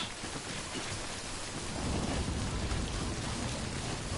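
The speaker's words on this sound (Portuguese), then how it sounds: "Isto é trovoada." Heavy rain pours steadily with a deep rumble of thunder building beneath it, a dense unbroken storm wash in the Death Stranding Director's Cut video game, with no voices.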